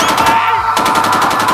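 Gunfire in the SOCOM U.S. Navy Seals video game, a loud rapid rattle of shots running through the brief moment, heavily compressed and close.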